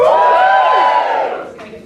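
Stand-up comedy audience cheering and whooping loudly as a crowd, a sustained roar of shouts that swells at once and then fades over about two seconds.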